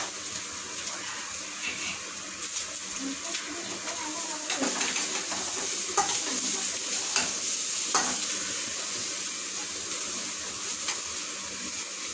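Vegetable poriyal being stir-fried in a pan makes repeated scraping, stirring strokes over a constant sizzle, irregular in rhythm and moderately close.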